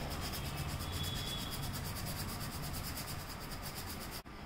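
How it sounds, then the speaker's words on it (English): Steady hand sanding on a handmade karambit knife, a continuous close rhythmic scraping rub that holds at an even level for several seconds before a brief dip at the end. "let's sand this area."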